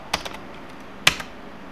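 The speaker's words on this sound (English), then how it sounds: "Type your password." A few sharp clicks on a computer keyboard come in quick succession as a password is typed, with a brief pause between them and a near, dry tone.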